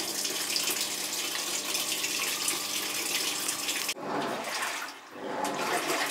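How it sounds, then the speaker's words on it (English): Water rushes steadily into a Panasonic NA-F62B3 6.2 kg top-loading fully automatic washing machine as it soaks, a loud continuous hiss that breaks off abruptly and then continues with a lower, gurgling churn. "So as you can see, it's still soaking in the water."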